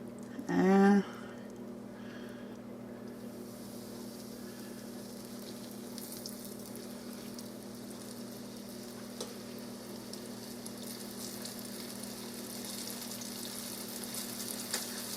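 Cube steak fries in a pan over medium-high heat with a soft, steady sizzle that runs throughout. A brief clatter opens it, and there is no speech over the frying.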